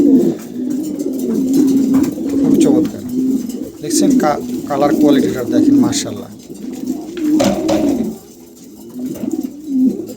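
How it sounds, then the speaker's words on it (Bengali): A pair of pigeons coos steadily up close in repeated soft, throaty phrases, while someone talks over them almost throughout. "খুবই চমৎকার এক জোড়া কবুতর"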